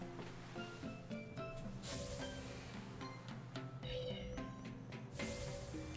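A cat meows in the video game Tales of Berseria, a few short calls standing out over a steady, fairly loud game music backdrop.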